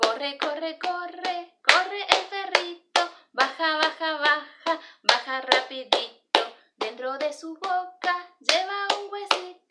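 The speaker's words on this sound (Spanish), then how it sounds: "Y ahora sí, la vamos a acompañar con palmas." Steady hand clapping keeps a regular beat under a woman singing a Spanish children's song about a running puppy, the claps close and crisp between sung phrases.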